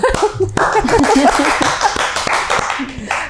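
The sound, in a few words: audience clapping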